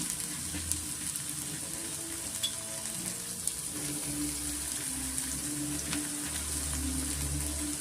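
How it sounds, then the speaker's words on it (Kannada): Chopped onion, carrot and beans fry in oil in a pan for vegetable bread pakoda, producing a continuous close sizzle with a few stirring scrapes and a low underlying rumble, with no voices. "ಈಗ ವೆಜಿಟೇಬಲ್ಸ್ ಎಲ್ಲ ಹಾಕೋಣ ಈರುಳ್ಳಿ ಕ್ಯಾರೆಟು ಮತ್ತು ಬೀನ್ಸು ಮೂರನ್ನು ನಾವು ಚೆನ್ನಾಗಿ ಸ್ವಲ್ಪ ಫ್ರೈ ಮಾಡ್ಕೊಬೇಕಾಗುತ್ತೆ"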